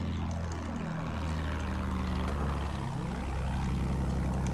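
A propeller plane roars past overhead in the World War I shooter Battlefield 1. It is loud and continuous, with swooping pitch rising and falling twice as it passes, and no talk.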